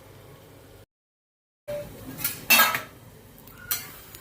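Mixed vegetables with capsicum stirred in a pan for pav bhaji, a short pause followed by a few bright metallic clinks and scrapes of a utensil against the pan, close up with no talking.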